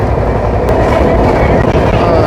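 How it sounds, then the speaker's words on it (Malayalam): A loud, steady rumble with faint clickety-clack as the MAS-LTT SF Express runs fast through hilly country near Lonavala, heard close from on board. "നല്ല അടിപൊളി സ്പീഡിലാണ് പോകുന്നത് ട്രെയിൻ"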